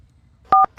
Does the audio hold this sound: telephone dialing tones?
yes